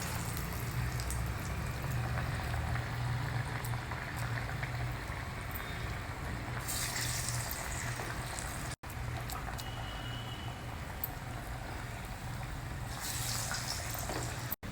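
Chana dal vadai frying in hot oil, a dense, even bubbling hiss that runs steadily throughout with only a few brief breaks, close and moderately quiet.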